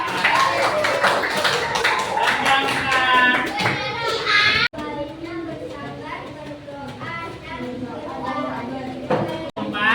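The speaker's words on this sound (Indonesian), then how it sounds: "Oke, tepuk tangan untuk selamat tinggal." Children clapping goodbye in an Islamic religious education class, a burst of rhythmic hand claps mixed with young voices and classroom chatter throughout.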